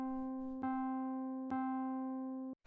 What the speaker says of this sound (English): So what this is a sample of a Rhodes piano.